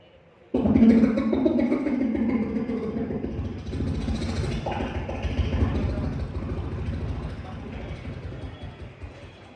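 A voice imitates a helicopter with a sustained low, rumbling, chopping drone that carries on for several seconds before slowly fading.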